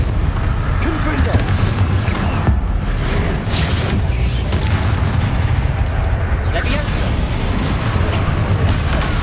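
Confringo explosion spells cast in Hogwarts Legacy, a dense run of loud booming blasts and crackling bursts layered over game music and effects, with a voice calling out spells throughout.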